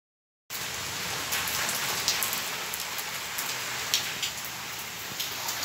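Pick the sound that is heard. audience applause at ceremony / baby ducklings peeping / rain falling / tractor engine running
rain falling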